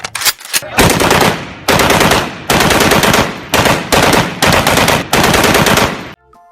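A toy M16 rifle fires in loud, sustained electronic bursts. Six long rattling volleys are separated by short gaps, with a few brief clicks before the first burst.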